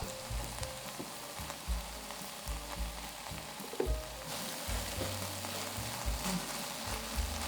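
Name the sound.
cabbage frying on a griddle for monjayaki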